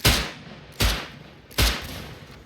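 Three sharp, evenly spaced gunshots in the survival game Rust, each a loud crack followed by a short echoing tail, heard alone.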